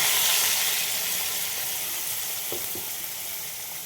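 Steady, loud sizzling of a spice paste frying in a hot pan for a pabda fish curry, with a couple of soft stirring knocks near the end.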